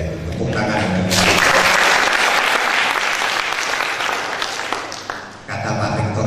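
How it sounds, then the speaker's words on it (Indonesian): An audience at a campus cultural lecture on wayang in Tulungagung breaks into loud, sustained clapping for several seconds, with voices mixed in underneath before the applause eases. "Luar biasa, tepuk tangan."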